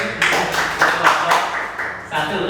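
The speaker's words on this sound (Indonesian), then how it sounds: "beri tepuk tangan dulu." A classroom group claps their hands in several uneven bursts, fairly close and loud, with brief gaps between the rounds and a voice faintly underneath.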